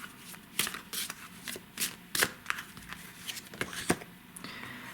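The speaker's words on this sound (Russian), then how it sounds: "Давайте 3 карты, да, отсюда достанем еще." Tarot cards are shuffled and drawn from a deck, giving a series of quick, crisp riffling snaps and soft papery slides at close range with no talk.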